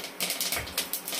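Mustard seeds, curry leaves and cumin crackle and pop in hot oil for a tempering, a rapid irregular patter of sharp sputters, close and fairly loud, with no voices.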